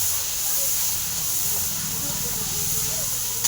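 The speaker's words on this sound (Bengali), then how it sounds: "মশলা মশলাটা পুরো একদম কষে নিলাম।" Spice paste frying in a pan gives a steady, close hiss and sizzle throughout, with faint murmuring underneath and a small knock near the end.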